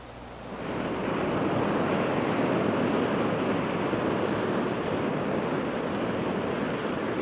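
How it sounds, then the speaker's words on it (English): Pacific Ocean surf washing onto a beach, a steady broad roar of breaking waves that swells up in the first second and then holds loud and continuous, with some wind noise. "This is the Pacific Ocean."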